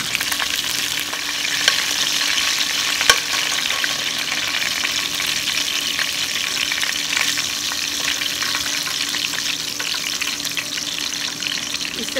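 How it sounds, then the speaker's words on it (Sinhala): Spices and curry leaves frying hard in oil for a restaurant-style shrimp biryani, producing a loud, dense, continuous sizzle with faint stirring, close up and unbroken for the whole stretch. "ටික මේ විදිහට එකතු කරලා ෆ්‍රයි කරන්න"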